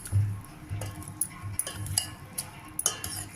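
Soft, scattered scrapes and light clinks of a spoon stirring rotti batter with buttermilk added, made without soaking or grinding lentils; quiet and close, with irregular taps against the bowl.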